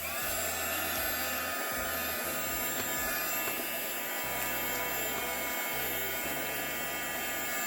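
A heat gun blows hot air onto a small shrink wrap bag, giving a steady, loud whirring hum with a low droning motor tone that runs unbroken throughout.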